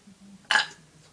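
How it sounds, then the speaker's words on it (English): Single short, loud burp during a burping contest, standing out sharply from near silence with a faint hum around it. "My burps."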